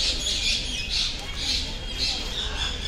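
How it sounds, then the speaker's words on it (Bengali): A lutino parakeet at a city zoo gives repeated sharp, high squawks in a steady rhythm, fairly close and clear over faint background noise. "lutino parakeet"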